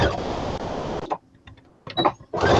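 A modern sewing machine stitches cloth for a fabric bird, whirring steadily for about a second, pausing with a few small clicks, then running again in two short close-up bursts.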